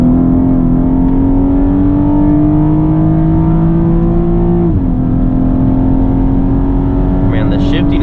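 A 9th-generation Honda Accord running on E85 fuel accelerates through a rolling pull from 60 mph, its engine note droning loud and steady and climbing gradually in pitch, with a quick shift near the middle before the tone settles again.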